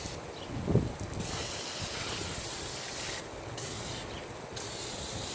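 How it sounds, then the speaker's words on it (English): Steady hissing spray from an aerosol can of cleaner aimed at car engine components under the hood, held in long continuous bursts with brief pauses, close and fairly loud, no voices. "I spray on all the components, everything pretty much associated with the hood."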